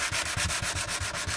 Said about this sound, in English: This is just 100 grit. Just sanding it up.